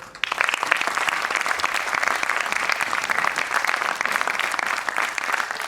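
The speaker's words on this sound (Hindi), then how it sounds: "जोरदार तालियां" A theatre audience at a Hindi stage play gives loud, sustained applause as a cast member is introduced, with dense clapping filling the hall steadily from start to finish.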